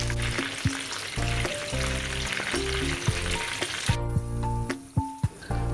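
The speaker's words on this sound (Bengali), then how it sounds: "চিকেনগুলো আমি একটু ওলট পালট করে দিচ্ছি।" Chicken drumsticks sizzle steadily in a hot pan over a low flame as they are turned, a continuous close frying hiss with occasional soft clicks, partly overlaid by steady tonal music.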